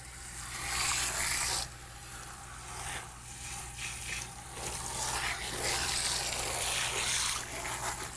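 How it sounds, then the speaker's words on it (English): Running water rinsing a treatment out of hair, a steady close hiss and splash of flowing water that continues throughout. "Rinse that out."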